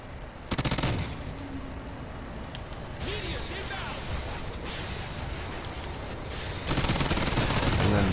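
A Gatling gun fires in Call of Duty Extinction, a rapid sustained roar of shots that starts abruptly, continues under a talking voice, and swells louder again at the end.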